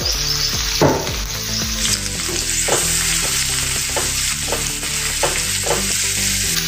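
Chopped onion and fine green chillies fry in oil after a pinch of asafoetida, a loud, close, continuous sizzle broken by repeated stirring scrapes.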